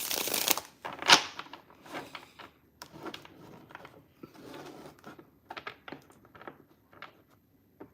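Tarot cards and decks being gathered and handled, heard as a quick opening shuffle followed by soft, irregular rustles and taps of cards at close range, with no talk.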